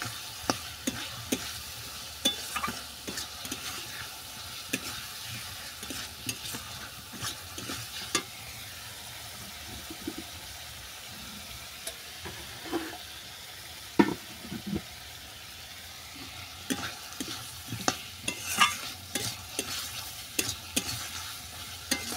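Fried potatoes being stirred into a cooked spice masala in a pan, repeated scraping strokes of a spoon over a continuous soft sizzle, close and moderately quiet, with no talking.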